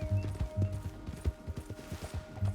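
Horse hooves clip-clop at a steady walking rhythm in Red Dead Redemption 2, fairly close and moderately loud, with low game ambience and a faint steady tone underneath.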